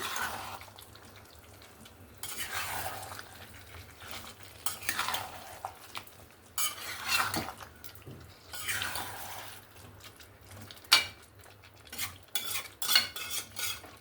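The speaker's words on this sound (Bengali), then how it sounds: "চিকেনগুলো দিয়ে মশলার সঙ্গে ভালো করে মিক্স করে নেব" Chicken pieces being stirred into fried spice paste in a pan, with repeated scraping and clinking of a spoon against the pot and a soft sizzle underneath, steady and close.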